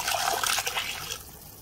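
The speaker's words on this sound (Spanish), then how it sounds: "terminamos de cubrir con agua" Water pours into a pressure cooker holding a pork knuckle stew, a steady close trickling and splashing that thins out near the end, with no voices.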